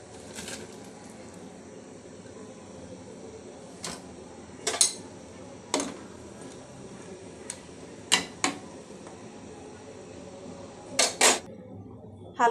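Ghot kochu taro pieces drop into a pot of hot salted water with turmeric, giving a handful of sharp metallic clinks and knocks spaced irregularly over a quiet background.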